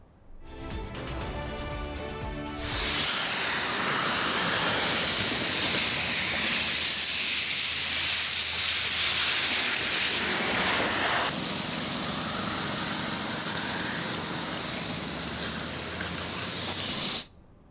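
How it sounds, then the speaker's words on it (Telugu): Heavy rain pours at Nandanam in Bhuvanagiri mandal, Telangana, a dense, loud, steady hiss that comes in after a short quieter opening and carries on until it stops abruptly near the end. "భువనగిరి మండలం నందనంలో భారీ వర్షం కురుస్తోంది."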